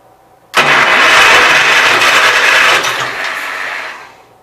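A Gravely 810 snow blower engine being cranked, bursting into a loud, close, rough roar that holds for a few seconds, then sputters and fades away as it fails to keep running.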